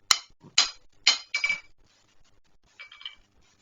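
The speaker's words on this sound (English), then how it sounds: "we can finish off the work here at the anvil by hand. And just bring that down to the taper that we want" A hand hammer strikes hot iron on an anvil, drawing a taper for a gothic andiron base: about five sharp ringing blows in quick succession, a pause, then a few lighter taps.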